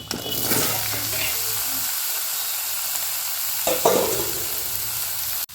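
Bottle gourd dropped into hot mustard oil for a koi fish curry sizzles steadily and close up, with a louder hiss and spatter partway through and scraping sounds of stirring.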